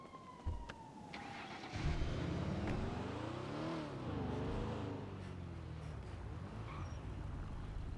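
A car in the GTA V NoPixel roleplay game driving and accelerating, its engine note rising and falling in long sweeps, with a siren wail mixed in, steady and fairly loud throughout, no talk.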